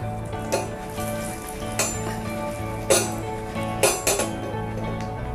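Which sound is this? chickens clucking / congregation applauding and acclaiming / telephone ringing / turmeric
turmeric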